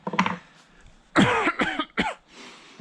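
Several harsh, close coughs in quick bursts, with a short quieter throaty sound first, then rough hacking coughs in a cluster.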